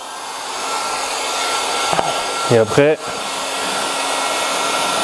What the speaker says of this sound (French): décapeur thermique ou sèche-cheveux, ça marche pareil